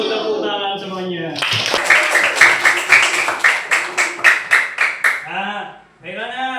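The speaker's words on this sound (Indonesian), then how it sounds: "Tepuk tangan semuanya." A classroom of people claps together in a run of about a dozen rhythmic, fairly loud bursts, close by, after and before a spoken voice.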